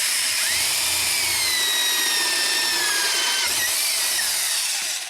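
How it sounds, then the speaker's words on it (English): A power drill whines steadily at high pitch, its tone sliding down and back up as it drills out an aluminum spark plug defouler on a Nissan Xterra, continuous and close throughout. "drill out the hole in the defouler here to the maximum size"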